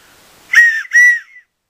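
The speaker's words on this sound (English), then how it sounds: "I am going to blow this whistle" A whistle from a bushcraft survival kit, blown twice in quick succession: two loud, shrill, close tones, the second slightly longer and trailing off, with no talk.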